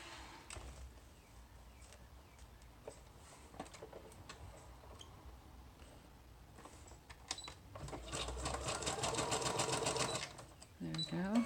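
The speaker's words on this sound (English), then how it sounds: "I'm just going to sew the top and bottom of the digital lace trim" A sewing machine stitches digital lace trim onto fabric for a belly band pocket, a steady mechanical whir that swells loud near the end after quieter, intermittent clicks and handling noises.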